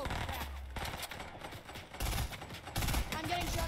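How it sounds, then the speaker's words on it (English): Rapid gunfire in the video game Fortnite, bursts of shots crackling in uneven clusters, loudest near the start and again toward the end, with game noise between volleys. "Getting shot at."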